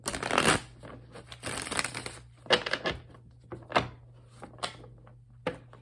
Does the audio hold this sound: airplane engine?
no